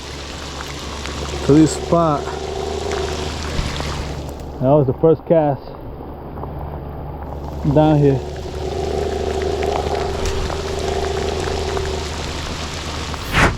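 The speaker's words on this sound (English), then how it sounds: "because it is raining pretty bad" Heavy, cold rain falls during a spring fishing outing as a steady hiss that briefly drops away and then returns, while someone talks over it.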